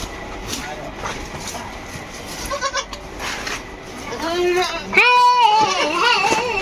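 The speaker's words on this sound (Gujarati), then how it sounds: "અને ચારો નાખવાનો છે બકરાઓને।" Goats on a village farm bleat while they are being given fodder. Several wavering cries rise near the end, loud and close, with murmuring voices and rustling in the background.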